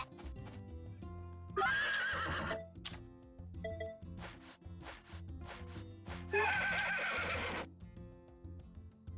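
Two loud horse neighs and whinnies from a farm horse in the life-sim game Story of Seasons: A Wonderful Life, separated by soft hoof clip-clops and light game chimes, with no talking.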